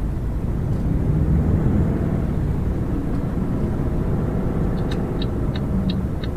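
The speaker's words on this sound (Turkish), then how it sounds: "Şu uçak da çıkıyor galiba evet." An airplane takes off in Euro Truck Simulator 2, a steady, loud, low engine roar that fills the whole stretch, with faint high tones chiming near the end.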